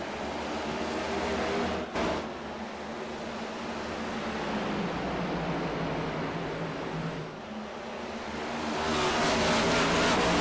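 Race cars in a racing video game accelerate together at a green-flag restart at Rockingham, a dense, steady engine roar with a rising surge of revving near the end.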